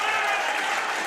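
Loud, sustained crowd roar and cheering fills an arena during a Major Series Lacrosse final between Peterborough and Six Nations, a dense wall of noise with no break.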